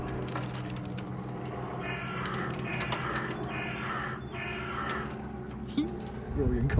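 Crows caw outdoors in cold weather, repeated calls over steady wind-like background noise, with people talking nearby.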